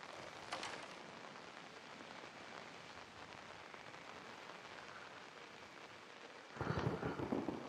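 Steady rain patters throughout, then a deep roll of thunder breaks in near the end, louder than the rain.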